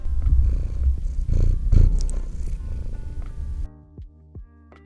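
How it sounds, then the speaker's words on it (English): A cat purrs loudly and close up in a steady rhythmic rumble for several seconds, then the sound drops away into quieter background. "I was trying to let Noos purr into the microphone"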